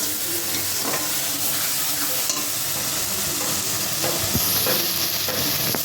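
Turmeric, chili powder, salt, whole garam masala and bay leaves fry in hot oil with a steady loud sizzle and hiss, broken by occasional stirring scrapes and clinks.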